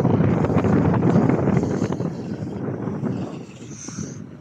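Gusty wind buffets and roars against the microphone at a crane worksite, strong at first and gradually easing.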